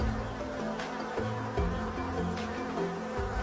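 A dense swarm of honeybees buzzes steadily at an opened hive being smoked by a beekeeper, a continuous close drone with a few louder individual bees passing near.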